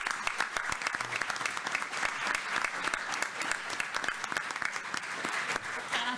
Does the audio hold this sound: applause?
yes